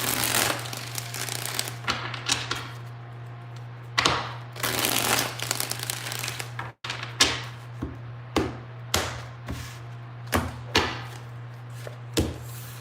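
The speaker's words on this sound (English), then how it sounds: "Two more shuffles." Tarot cards are shuffled by hand in a series of crisp riffles and slaps, loud and close, with a steady low hum underneath and irregular pauses between shuffles.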